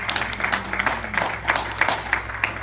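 Church congregation clapping during a sermon, a moderate and fairly rhythmic patter of hands heard from a short distance in a reverberant hall.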